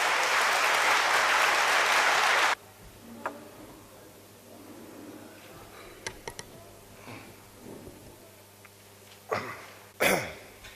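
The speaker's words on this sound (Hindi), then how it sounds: "जोरदार तालियों से स्वागत करें कर्नल साहब का" A crowd at a gathering in Mandla, Madhya Pradesh applauds loudly to welcome Colonel RSN Singh, dense clapping for about two and a half seconds, then a cut to quiet room noise with scattered coughs and small knocks.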